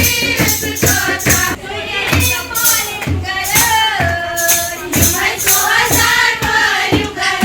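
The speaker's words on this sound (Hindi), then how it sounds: "सब ऐसे ना तालियां बजा के बस मजे कर रहे" Guests at a Kashmiri wedding clap along on the beat of a loud sung song, the rhythmic hand claps mixed under the music and voices.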